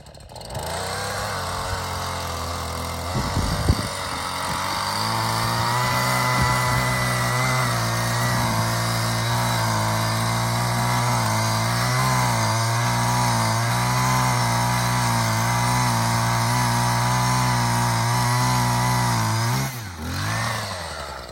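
A motorized drill boring a hole in snow and ice beside a stuck snowmobile roars continuously, its engine holding a steady high drone for a long stretch before briefly dipping near the end.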